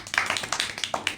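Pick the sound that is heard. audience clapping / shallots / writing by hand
audience clapping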